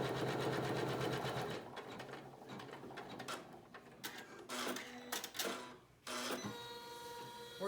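An embroidery machine stitches the sewing line of a flip-and-sew spinwheel block. A loud, steady mechanical stitching rattle breaks into irregular bursts and pauses near the end.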